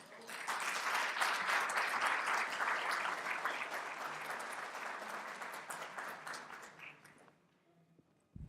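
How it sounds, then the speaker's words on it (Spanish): An audience at a university talk gives a strong round of applause, dense and steady for about seven seconds before tapering off into near silence. "por favor recibámoslos con un fuerte aplauso."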